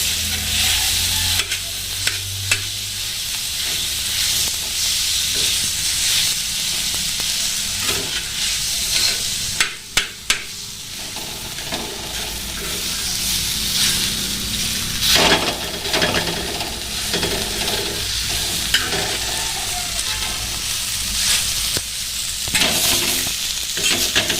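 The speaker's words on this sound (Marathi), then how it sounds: "आता यात बारीक केलेला बटाटा आणि बटाणा टाकायचा आणि हे चांगलं परतून घ्यायचं" Finely chopped potato and peas are sautéed in a pan, giving a continuous loud sizzle with frequent scraping strokes of a spatula stirring through it.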